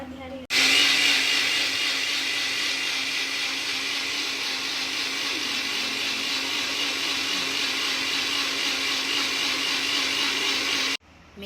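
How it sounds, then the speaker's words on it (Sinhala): A blender whirs steadily for about ten seconds, mixing fresh milk with two eggs for a caramel pudding, a loud continuous motor roar that starts and stops abruptly. "බ්ලෙන්ඩර් එකට මේක පාර දාලා ගහනවා."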